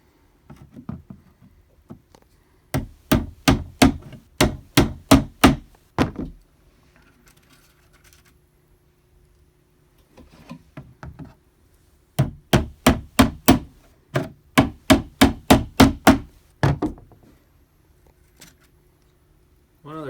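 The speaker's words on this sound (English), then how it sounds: "use the pliers and pound it right in, just like that." Pliers used as a hammer pound small nails into flat-pack assembled furniture, two bursts of about ten rapid, sharp, loud metallic taps each, separated by a pause, close by.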